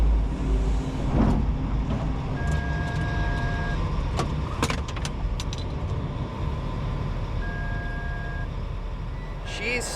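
Construction truck driving at a Hyundai equipment league competition, a low continuous engine rumble with intermittent reversing beeps and sharp knocks, as commentators talk over it.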